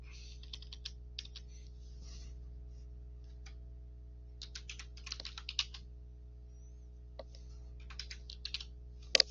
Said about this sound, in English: I'm going to type flip